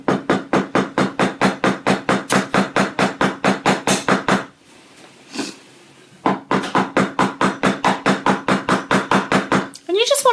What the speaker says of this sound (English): So now we're going to go ahead and hammer this one too.